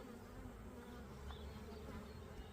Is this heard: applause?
no